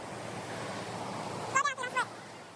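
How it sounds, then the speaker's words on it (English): A small river and waterfall near Aguas Calientes, Peru rush in a steady broadband roar, with a short burst of voices partway through. "I had to capture this little river"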